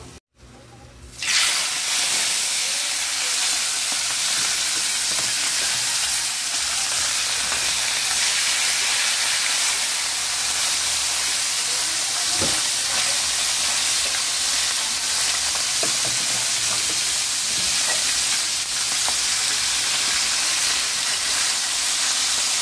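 Thick, fatty dalagang bukid (red bigeye) fish fries in a pan with a loud, continuous sizzle and hiss that holds steady throughout, heard close up.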